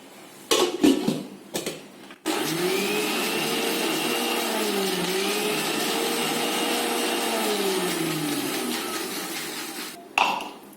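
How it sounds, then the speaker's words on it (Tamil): A kitchen mixer grinder whirs steadily for several seconds, blending curd and water into buttermilk, a close, loud motor drone with a wavering pitch, bracketed by brief clinks and knocks before and after. "இந்த தயிரை சேர்த்து இந்த மிக்சியில் போட்டுக்கணும்ப்பா போட்டுட்டு இது நல்லா ஒரு அடி அடிச்சிடணும்"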